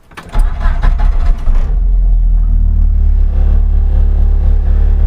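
A Morris Minor engine starts with a burst of cranking noise, then settles into a steady, loud low rumble at idle heard from close inside the car.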